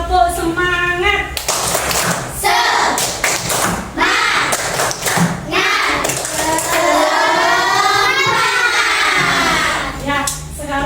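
A classroom group claps a rhythmic tepuk semangat cheer together, mixing bursts of patterned clapping with loud shouted chanting over several seconds.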